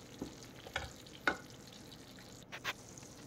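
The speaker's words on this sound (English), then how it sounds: "Mix it up completely so that a smooth paste is being formed." A broccoli mixture stirred into a smooth paste in a pan over a low gas flame gives soft sizzling and a few quiet scrapes and clinks of a spoon against the pan.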